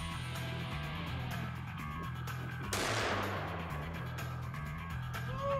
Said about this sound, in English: That's a cannon.